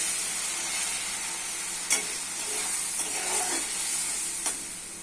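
Shrimp shutki masala with tomatoes sautéing in a pan: a steady, close hiss of frying throughout, with occasional soft clicks and scrapes of a spatula stirring.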